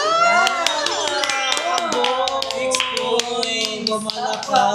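Hands clap in quick, sharp bursts at a playful spelling bee game, close and crisp, layered over lively voices and laughter throughout.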